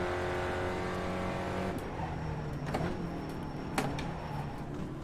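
A race car engine in the iRacing sim revs and drones with shifting pitch, a sustained loud whine broken by a few sharp clicks and transients.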